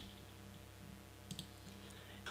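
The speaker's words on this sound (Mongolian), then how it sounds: "Доошоо заасан сум дээр дарна." A computer mouse clicks in Microsoft Excel 2010. A few faint, sharp clicks sound in quick succession, then another one, over a quiet background hum.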